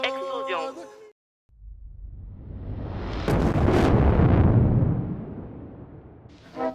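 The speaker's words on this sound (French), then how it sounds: "explosion." After a brief voice and a moment of silence, a deep, rumbling explosion swells and roars for several seconds before fading, then a voice returns briefly.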